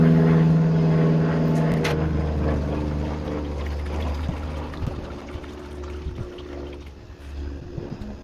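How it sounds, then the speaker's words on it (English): Water is poured into the radiator of a custom 1950 Ford Shoebox with a Ford Y-block V8, a close gurgling pour that fades into quieter trickling and scattered small knocks. "I'm going to chuck the water in there"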